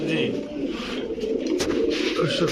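Kamagar Prince pigeons, a matched pair of racers, give low throaty coos in quick succession close by, while someone talks over them.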